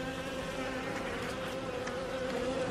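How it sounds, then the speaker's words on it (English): Honeybees inside an opened beehive box make a continuous, even droning buzz, close and steady throughout, with no voices. "Look at all the bees in here."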